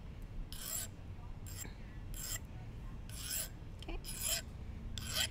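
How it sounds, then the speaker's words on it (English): Hand file rasping across the pinched tip of a bangle bracelet wire, angled to the edge to smooth it: about eight short, close, scratchy strokes in an uneven rhythm over low room hum. "all I want to do is kind of smooth out the little pinched portion on the tip of the wire"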